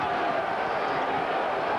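A packed basketball arena crowd roars in a steady, dense wash of cheering and shouting at a 1995 UMass at Saint Louis college game in a brand-new arena, with no single voice standing out.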